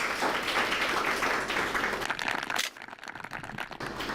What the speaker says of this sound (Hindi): जोरदार तालियां एक बार फिर से बजा दीजिए